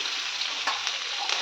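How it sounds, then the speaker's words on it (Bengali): Chopped vegetables frying in a pan, a dense, even sizzle close by with a few sharper crackles and stirring noises, no voices. "এই সবজিগুলো সব আগে দিয়ে দিলাম, দিয়ে একটু ভাজা ভাজা করব,"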